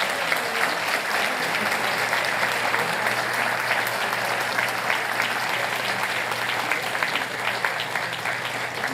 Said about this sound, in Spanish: Damos un aplauso al Señor por ellos.